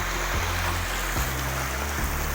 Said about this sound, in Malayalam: നിറയെ ഒഴുകുന്ന വെള്ളമാണ് നല്ല വെള്ളമാണ്